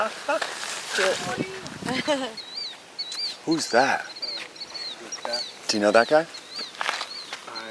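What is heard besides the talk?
birds chirping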